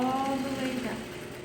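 A sewing machine runs a short, rapid burst of stitching in the ditch along a corset's boning casing, its motor whirring with a steady mechanical hum that tapers off slightly near the end.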